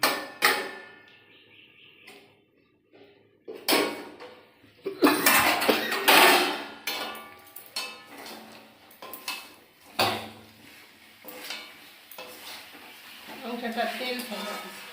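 A metal pot lid clanks and rattles as it is lifted off a pot of meat cooking in oil, with scattered clinks of pans and utensils, bursts of stirring and a faint sizzle, and a voice talking between the sounds.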